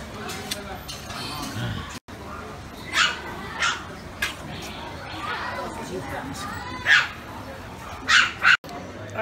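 Several quick, high yips and barks from a puppy at a pet shop in Changsha's Taiping Street pop out intermittently over steady crowd chatter and street noise.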